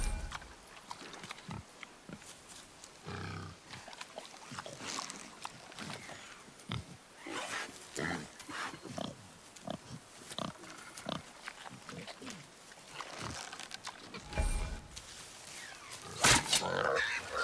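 Wild boar grunts in the God of War video game, repeated snorting bursts close up, mixed with game sound effects and background ambience, with a sharp louder burst near the end.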